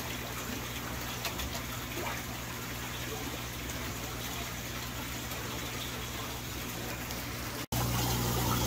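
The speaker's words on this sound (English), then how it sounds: "I'm gonna get some more water in here" Water pouring from a hose into a DIY double-barrel pond filter, a steady close gushing and splashing that runs continuously, briefly cutting out and resuming slightly louder near the end.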